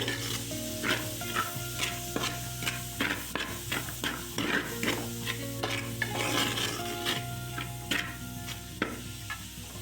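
Crushed small shallots and curry leaves sizzle steadily in hot oil for Kerala-style chicken fry, with frequent spoon scrapes and knocks against the pan stirring them close up; no talking.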